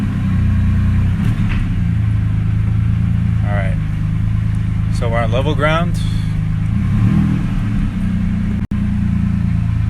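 A truck or car engine idles on level ground during an oil change, as a steady low rumble under a man's brief speech, with a faint mechanical click near the end.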